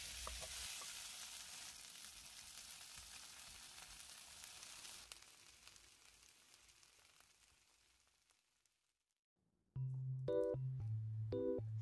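Sweet potato and carrot pancake filled with cheese pan-frying on low heat, a steady soft sizzle that fades to near silence before other loud tonal sounds take over at the end.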